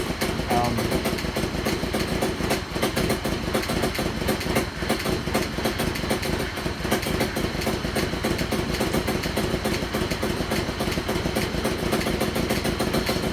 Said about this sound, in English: It's running a bit rough.